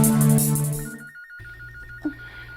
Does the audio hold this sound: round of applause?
no